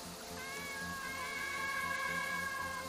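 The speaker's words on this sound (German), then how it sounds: "Das ist eine Katze! Die fange ich." A cat in a video game gives a drawn-out, wavering meow, a single sustained call heard clearly over a low background, with no talking.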